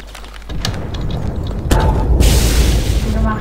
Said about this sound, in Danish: Jeg kan bare høre alle eksplosioner, der sker inden.